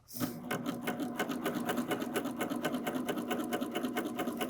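A Baby Lock Applaud sewing machine stitches tape with a micro insert foot, a fast, steady, close mechanical whir with an even rapid rhythm and no talk.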